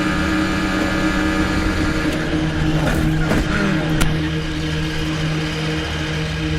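A Formula 1 race car, Max Verstappen's, crashes on the main straight while leading the race, heard as a steady loud engine roar with a sharp impact burst midway and a brief click after, no talk.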